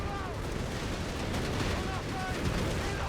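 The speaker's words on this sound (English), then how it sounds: "Indeed, artillery coming down." Artillery fire in Company of Heroes 3 during a 3v3 battle on the Gaza Landing Strip map: a dense, continuous roar of blasts and gunfire that rumbles steadily throughout.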